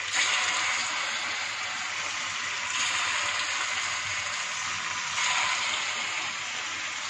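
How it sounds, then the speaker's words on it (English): Cutlets frying in heated oil produce a continuous, bright hiss, close and fairly loud, that swells slightly a couple of times as the pieces settle. "After the oil is heated, take few cutlets and heat it in the oil."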